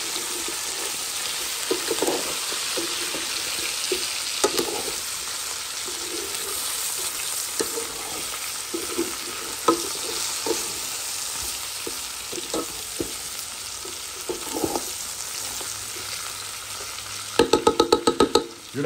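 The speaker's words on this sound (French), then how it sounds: "je mélange." Chicken and mushroom curry with spices is stirred in a pot over a steady frying sizzle, with irregular utensil knocks and scrapes and a burst of rapid clattering near the end.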